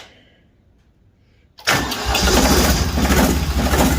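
A Ditch Witch 3700 diesel trencher engine fires up suddenly after near silence, catching at once and settling into a loud, close, rough idle that holds steady.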